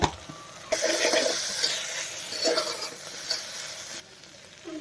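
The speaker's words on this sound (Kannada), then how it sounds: "ಇದೆಲ್ಲ ಚೆನ್ನಾಗಿ ಮಿಕ್ಸ್ ಮಾಡ್ಕೊಳ್ಳಿ" A spoon stirs a cooked dal mixture with chili powder in a pressure cooker for sambar, giving a steady, close scraping and sloshing that stops abruptly near the end.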